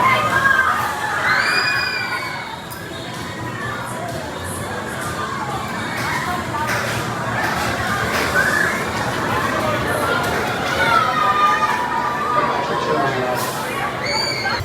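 Crowd at Carowinds amusement park shouting and cheering, with children's high voices prominent; a dense, steady wash of many voices close around, rising and falling without a break, people chattering throughout.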